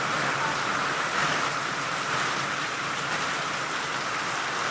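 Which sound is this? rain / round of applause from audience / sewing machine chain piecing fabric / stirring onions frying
rain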